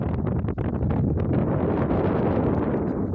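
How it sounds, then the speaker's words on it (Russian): Heavy wind buffeting the microphone in constant rumbling gusts, loud and close, with no other sounds clearly audible. "извините, что очень ветрено"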